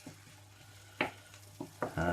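Garlic fries in melted butter in a pan, a quiet sizzle broken by a few short scraping stirs, close and faint with no talking.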